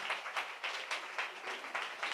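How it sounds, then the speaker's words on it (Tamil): Church congregation clapping hands in thanks during a Tamil worship service, with steady overlapping claps building in bursts, moderately loud and fairly close, with no voice on top. "நல்ல கைத்தட்டி ஆண்டவருக்கு நன்றி சொல்லுங்க"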